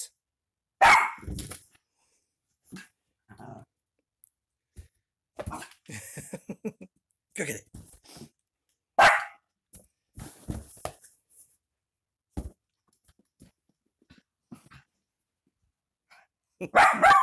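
A dog barks in separate short bursts, some single and some doubled, spread across the stretch with quiet gaps between, loud and close indoors near a front door.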